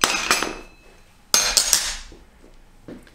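Nut tightened onto the threaded foot of a height-adjustable workbench, two bright metallic clanks with ringing tails and a few lighter clinks between them, close and alone without talk.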